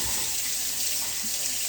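Cold water pours steadily from a kitchen tap over burned hands in a sink, a continuous close hiss and splash with no voices.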